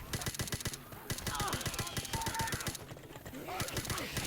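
Rapid bursts of gunfire from a PC shooter game, sharp repeated shots in fast automatic runs with short pauses, loud and continuous, with players talking over them.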